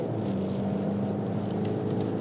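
A Mercedes-Benz GLC hybrid's petrol engine, cutting in after electric torque, makes a loud, steady, close engine drone with a sustained low hum throughout and no speech.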